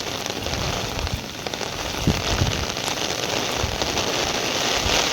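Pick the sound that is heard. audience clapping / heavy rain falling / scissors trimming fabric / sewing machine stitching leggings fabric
heavy rain falling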